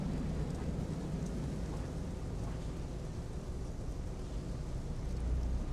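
A low, steady rumble of thunder rolls on under continuous rain, broadband and even throughout, swelling slightly near the end.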